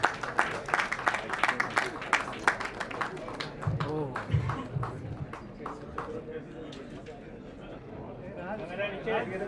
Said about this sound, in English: Big round of applause to our chief guest.